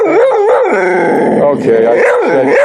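A dog howls and yips in a continuous wavering, rising and falling vocal run, loud and close, with no words over it.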